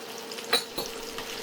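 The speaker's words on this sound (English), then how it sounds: "Pan on the heat with some oil and in with the garlic." Garlic sizzles in hot oil in a pan, a steady close crackle and hiss with a couple of sharp clinks of a utensil against the pan, no voices.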